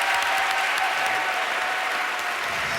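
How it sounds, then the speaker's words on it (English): An audience applauds a girls' choir, Cantabile, at a school choir contest: dense, steady clapping from a crowd throughout, loud and even. "a huge round of applause for Cantabile"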